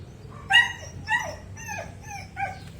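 A dog named Kobe at home among houseplants gives a short run of high yelps and whimpers, four or five whiny cries spaced about half a second apart, close and fairly loud.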